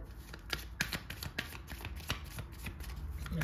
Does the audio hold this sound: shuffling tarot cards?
yes